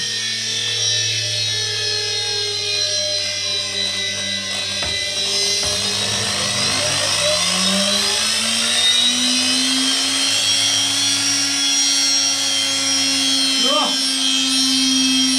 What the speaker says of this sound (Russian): Наш регулятор работает, ребята. Вот мы убрали обороты до минимума